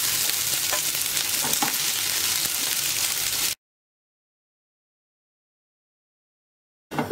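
Steady, close sizzling of food frying in a hot pan with faint stirring scrapes, running for about three and a half seconds before cutting to silence.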